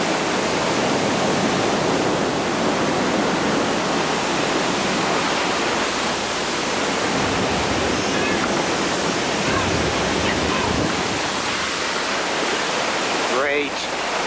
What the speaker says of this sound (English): When it hits land, this mound of water rushes ashore.